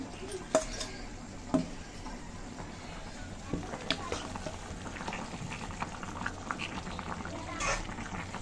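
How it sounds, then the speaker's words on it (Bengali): Taro and fried tilapia curry being stirred in a pan, with soft scraping clinks of a utensil and a low bubbling simmer, scattered stirring knocks over a steady background. "তো মাছ দিয়ে তো ভালো করে একটু নেড়ে ছেড়ে মিশিয়ে নিলাম লবণ দিয়ে।"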